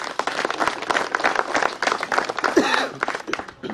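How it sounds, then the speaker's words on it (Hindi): Crowd applause at a political rally, dense clapping filling the whole stretch with mixed cheering noise, steady and fairly loud throughout. "तालियां बजाओ साथियों।"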